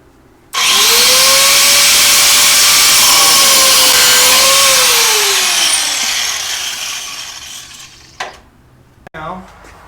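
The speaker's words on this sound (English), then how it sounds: "Cut that piece of metal." A power tool cuts a clamped piece of metal in a workshop, a loud, steady high-pitched whine and grinding starting abruptly and running for several seconds before winding down, followed by a couple of brief knocks.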